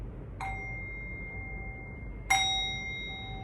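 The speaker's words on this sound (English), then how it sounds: "as you hear the chime" Two struck chimes ring out in a quiet room, the first softly at about half a second and the second louder near two and a half seconds, each a clear metallic tone with a long sustained ring that fades slowly.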